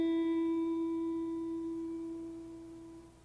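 A sustained E tuning note for guitar rings steady and clear for over three seconds, a single pure tone slowly fading with no talking.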